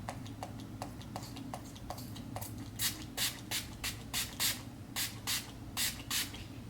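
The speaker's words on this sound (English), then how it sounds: "Okay, so I just tried to spray this half of my face" Makeup setting spray from a pump bottle is misted onto the face in a steady series of about a dozen short, evenly spaced spritzes, quiet at first then louder, close up with no talking.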